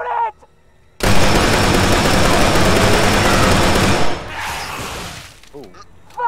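Gunfire erupts in ArmA 3 during a night mission in a haunted ghost city, a dense burst of rapid shots lasting about three seconds, loud and close, with brief talking before and after.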